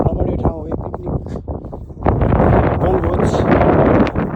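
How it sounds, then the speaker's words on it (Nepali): Wind gusting across an open hilltop picnic spot, roaring and buffeting the microphone in a strong continuous rush that swells after a brief lull, with voices faintly in the background. "हावा चल्छ।"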